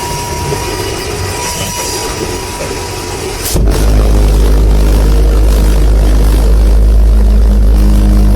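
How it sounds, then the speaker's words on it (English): A World War II V1 buzz bomb pulse jet engine bursts into a loud, steady roaring drone partway through, following quieter rumbling, and keeps running without letup to the end. "Hear that V1 buzz bomb scream?"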